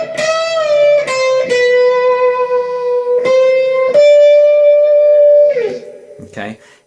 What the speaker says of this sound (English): the last part is just a bunch of unison notes.